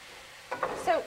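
Tomatoes go into a chicken karahi frying in the pan, giving a brief, soft sizzle and a couple of stirring scrapes after a quiet moment.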